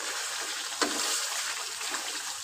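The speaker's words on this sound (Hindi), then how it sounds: "अब मैं इसके अंदर पानी डालने लगी हूँ।" Water poured into a pot of chicken and tinda (round gourd) curry, a brief splashing pour starting partway through over a steady background hiss, with no voices.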